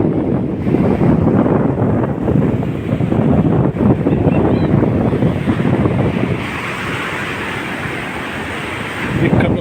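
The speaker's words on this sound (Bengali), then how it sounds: "নর্থ গোয়ার অন্যতম বিখ্যাত ক্যান্ডোলিম বিচ" Waves and strong wind at Candolim Beach in North Goa roar steadily, the surf rushing continuously while wind buffets the microphone, loud and close with no speech.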